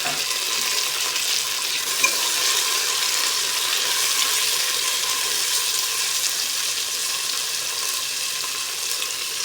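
Tomato and mixed vegetables sizzle steadily in a pan for a healthy shrimp sauté, a continuous frying hiss with a faint clatter of stirring and no speech.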